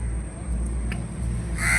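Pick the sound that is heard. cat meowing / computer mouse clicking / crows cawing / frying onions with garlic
crows cawing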